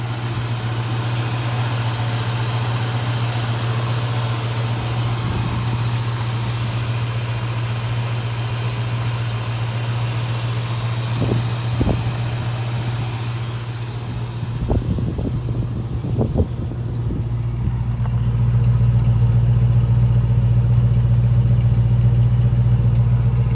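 A 1965 Ford Mustang convertible engine runs at a steady idle with a deep, constant hum, a few knocks and clicks partway through, then a fuller low rumble toward the end as the car sets off; no voices.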